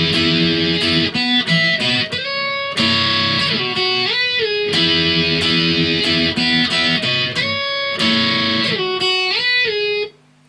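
Distorted electric guitar plays the intro of a pop-punk song, loud and sustained chords with brief chord changes, alone for about ten seconds before cutting off.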